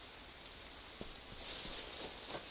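Rain in the video game Green Hell falls as a soft, continuous hiss with scattered drop taps, growing a little heavier partway through, with no voices.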